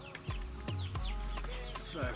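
Chickens cluck repeatedly at close range on an off-grid homestead in Jamaica, a busy run of short clucks and squawks over steady background noise, with no talking.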